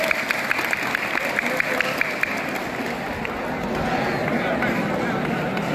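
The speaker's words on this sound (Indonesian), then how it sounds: "tepuk tangan buat semuanya" High school students at a motivational assembly clapping together, a crowd of hands with sharp individual claps at first, swelling into a denser, rumbling applause with voices mixed in.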